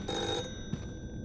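A brief, harsh ring of a telephone bell in the game The Floor Is Breathing cuts in and stops over a low background hum, with no voices.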